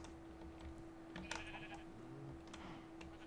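Minecraft sheep bleat in a few short, wavering calls over a low game hum, moderately near and clear, with no talking over them.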